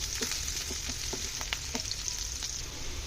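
Chopped onions fry and sizzle in hot oil while being stirred, giving a steady close crackle broken by regular scraping strokes of a spoon, with no talking.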